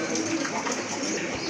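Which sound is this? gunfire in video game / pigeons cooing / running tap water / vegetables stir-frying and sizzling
pigeons cooing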